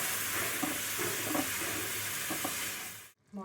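Spice paste being stirred and fried in a pan for a boiled-egg curry gives a dense, steady hiss with soft scraping stirs, then cuts off abruptly near the end.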